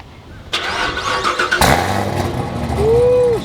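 A rally car's engine starts and runs close by, an abrupt onset followed by a steady mid-pitched running note with a rising whine near the end, heard alone without talk.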